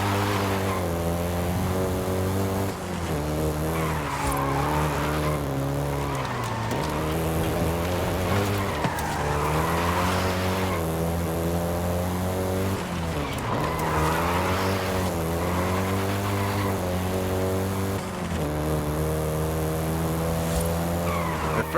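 Volkswagen Golf GTI driven in Forza Horizon 5 in Mexico, its engine revving up and down through repeated gear changes with bursts of tire squeal, loud and close throughout.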